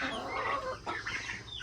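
Farm chickens cluck and murmur together after a storm in Texas, a close, continuous mix of soft overlapping clucks and calls with no talking.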